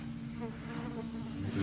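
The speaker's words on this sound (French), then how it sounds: "Je sais pas si vous entendez, mais c'est gavé de mouches." Flies swarm inside an abandoned, fire-damaged building, giving a soft continuous buzzing drone, faint and close, with no voices over it.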